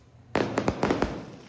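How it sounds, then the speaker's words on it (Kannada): Firecrackers bursting outdoors during a festival night with lamps lit, a sharp loud bang followed by a quick irregular series of cracking pops. "ಪಟಾಕಿ ಎಲ್ಲ ಹೊಡಿತಿದ್ದಾರೆ"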